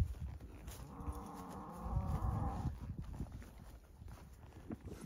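Cattle herd moving across open range near a dry wash, with a low drawn-out moo in the middle and soft hoof thuds and rustling around it, moderately distant.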